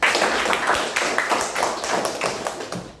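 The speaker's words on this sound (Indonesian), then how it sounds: "Luar biasa, tepuk tangan dulu" Students in a classroom clap their hands together in a steady, fast burst of many claps that fills the room, loud and close, with no talk over it.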